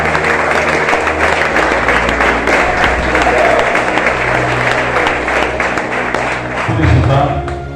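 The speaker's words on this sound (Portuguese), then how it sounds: "Vamos aplaudir o Glória Senhor." A church congregation at a Sunday family worship service claps together in lively sustained applause with some crowd voices, loud and near, with a low sung or organ-like tone swelling near the end.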